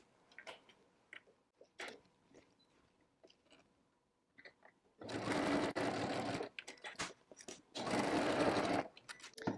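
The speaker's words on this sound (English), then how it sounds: "now I've sewed up both of my sides of my bag" A sewing machine stitching the sides of a bag, starting with scattered light ticks and handling taps, then two loud, close bursts of rapid stitching of a second or two each, separated by quieter clicks.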